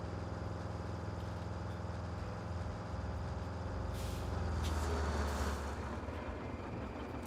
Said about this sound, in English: this truck is hurt, man. It should not sound this rough.